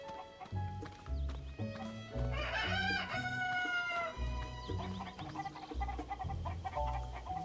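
Chickens cluck and a rooster crows inside Zelda: Tears of the Kingdom, layered over steady game music with a loud bright call near the middle.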